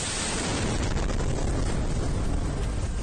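Missile explosion on a street in Kyiv: a loud, sustained broadband roar and rumble fills the whole stretch at steady intensity, with no talk.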